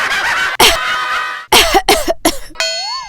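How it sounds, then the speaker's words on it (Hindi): A person coughs several times close up, a harsh hacking fit broken into short bursts with brief pauses between them, followed by a short electronic tone. "खांसी आवे"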